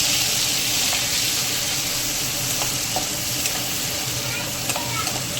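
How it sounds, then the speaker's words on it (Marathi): Tomato sautéing in a pan with asafoetida sends up a steady, close frying sizzle and hiss throughout, with a few faint clicks of stirring and no talking. "टमाटर नरम होईपर्यंत याला परतून घेते"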